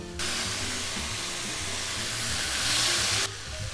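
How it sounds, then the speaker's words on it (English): Meat browning in a hot pan for an Irish feast, a steady loud sizzle with a bright hissing spray that swells briefly near the end before dropping off. "I'm going to brown on one side and just flip it over here."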